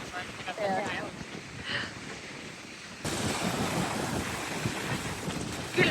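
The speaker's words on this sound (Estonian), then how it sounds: "Nüüd on jälle veits jahe tuul, on ju." Strong, cool wind gusts across a sandy Gran Canaria beach, roaring steadily against the microphone with surf rumbling underneath, growing louder halfway through; people talk faintly beneath it.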